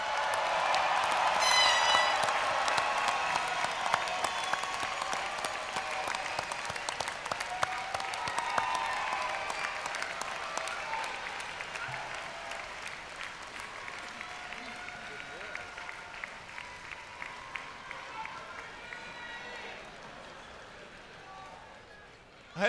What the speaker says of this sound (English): honor our great graduates with a huge round of applause